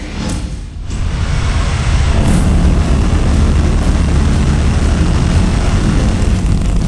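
SpaceX Starship Flight 4 lifts off with a deep, continuous rocket roar, loud and steady after a brief swell in the first two seconds.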